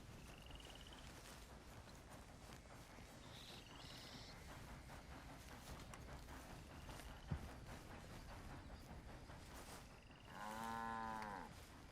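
Cattle in the video game Red Dead Redemption 2, heard as a low mooing call near the end over a faint, steady outdoor ambience with frogs and soft hoof clops.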